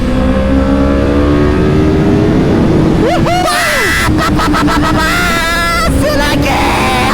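A BMW S1000RR superbike just out of break-in revs hard alongside a Yamaha R1 on a ride out, engine whine sweeping up and down loudly with shouting voices over it.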